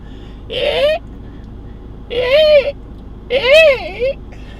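A voice imitates a bald eagle's shriek, with three rising, warbling high-pitched cries separated by short pauses, loud and close.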